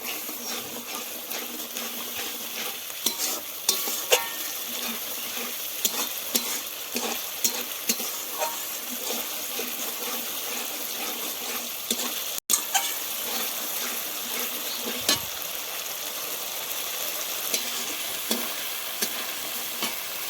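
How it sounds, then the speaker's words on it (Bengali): Spice paste stir-fried in extra oil in a pan, a continuous close sizzle with repeated scraping and clacking strokes of a spatula, steady throughout with occasional sharper knocks. "আর একটু তেল দিয়ে ভালো করে মশলাটাকে কষিয়ে নেব"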